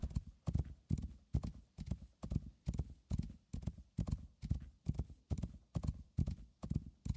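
Horse hooves gallop in the video game Rising World in a fast, steady rhythm of paired thuds, close and continuous, with no talking.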